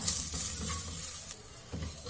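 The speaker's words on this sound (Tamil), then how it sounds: "அப்புறமா கிரீன் சில்லி, நறுக்கின பூண்டு, நறுக்கின இஞ்சி சேர்த்து வதக்கிக்கலாம்." Green chilli, chopped garlic and ginger sizzle steadily in a hot pan while a utensil stirs them with a few soft scraping strokes, close and fairly quiet.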